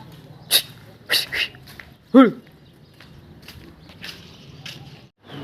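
A nearby dog gives a few short yips and one sharp whimpering yelp, spaced irregularly over a quiet background.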